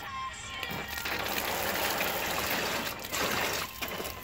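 Water spraying and trickling from a battery-powered Ooklee shower, a steady close hiss of running water with a brief dip near the end.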